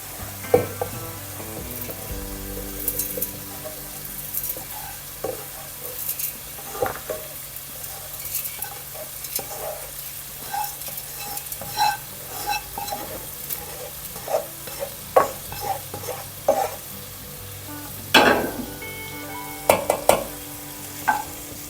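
Tomatoes sizzle and soften in a hot pan for a fish curry, a steady close frying hiss broken by repeated scraping stirs that grow more frequent toward the end, with no voices.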